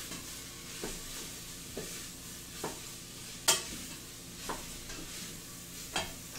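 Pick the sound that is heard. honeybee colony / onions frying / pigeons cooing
onions frying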